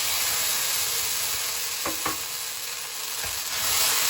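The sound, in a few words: sweet and sour sauce sizzling in a hot wok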